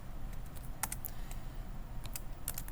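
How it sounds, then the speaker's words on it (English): Keys on a computer keyboard tapped while typing notes, a few faint scattered clicks in short bursts against a low background hum, with no voice. "So I'm going to type out these notes."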